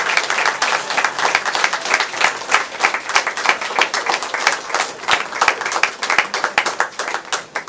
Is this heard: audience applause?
yes